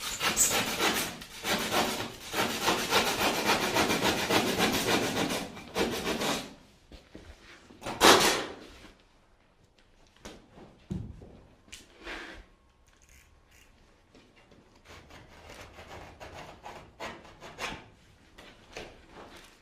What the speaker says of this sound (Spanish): primero le pasamos el serrucho en un lado y luego le podemos pasar el cúter abajo